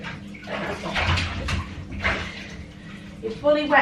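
Water splashing and pouring over a wet girl, likely a dog, outdoors near a sprinkler, a close sloshing wash rising and falling in surges while a person talks softly over it.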